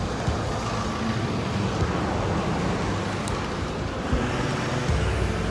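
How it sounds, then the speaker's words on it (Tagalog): Continuous traffic noise on a road during quarantine, cars and heavier vehicles rumbling past steadily and close by with no pauses, no voices. "Ayan, may mga sasakyan."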